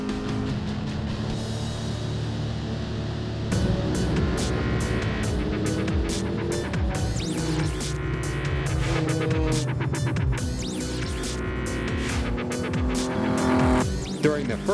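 Race cars roar past on a road racing circuit at Ridge Motorsports Park during an endurance race, with engine notes rising and falling and tires squealing at times, captured from inside a moving car.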